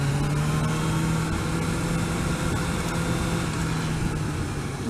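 A motorcycle engine cruising along at 30 mph, a steady continuous drone with a low hum and dense rushing wind noise throughout, loud and even with no pauses.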